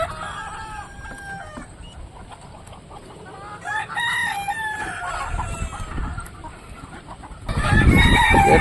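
Hens and roosters in a rural farmyard waiting to be fed rice, clucking and crowing close by, with a louder, denser burst of calls near the end.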